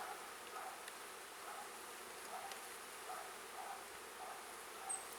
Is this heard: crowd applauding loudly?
no